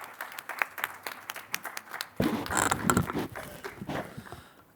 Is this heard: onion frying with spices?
no